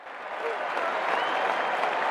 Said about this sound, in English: Next, search for Crowd Cheer 3